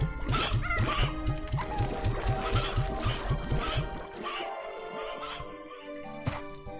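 A crowd of chickens in the video game Slime Rancher 2 clucks in quick, repeated bursts, loud and close, with the chorus thinning into scattered clucks toward the end.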